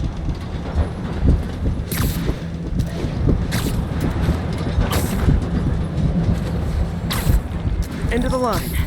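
A subway train in the video game Marvel's Spider-Man Remastered rumbles and clatters steadily nearby in a tunnel, with rhythmic metallic knocks and a brief screech near the end; talking is heard over it.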